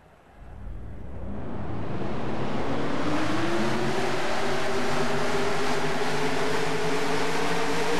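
A pack of stock cars in a racing video game rolls off at the start at Homestead, a single engine note rising from quiet into a steady, sustained drone.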